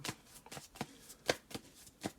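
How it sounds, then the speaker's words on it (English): Tarot cards shuffled by hand during a reading, a string of crisp riffling flutters in an uneven rhythm of about eight bursts, close and quiet, with no voice over them. "now I'm shuffling off camera"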